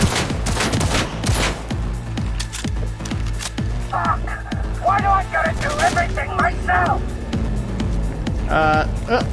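Rapid bursts of SMG gunfire crackle during a police shootout in the video game Cyberpunk, several loud automatic volleys near and overlapping, with a voice talking over the firing.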